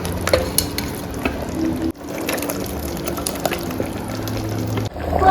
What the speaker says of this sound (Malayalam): ഇനിയിപ്പോൾ മസാല ഇടാം.